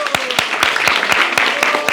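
A class of students claps together in quick, even rhythm, with about eight sharp, close claps over two seconds while a voice talks underneath.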